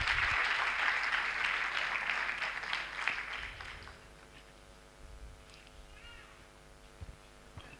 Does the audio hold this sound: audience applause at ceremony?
yes